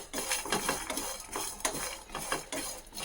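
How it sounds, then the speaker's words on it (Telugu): Whole spices (shahi jeera, cloves, cardamom and cinnamon) being fried in a pan, heard as repeated close scraping and clinking of a utensil stirring against the metal, with only faint sizzle underneath. "వీటిని లైట్ బ్రౌన్ కలర్ వచ్చేదాకా వేసుకుందాం."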